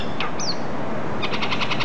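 Birds squabbling outdoors, with a sharp chirp, a rising whistled call, then a rapid series of repeated high chirps toward the end over steady background noise.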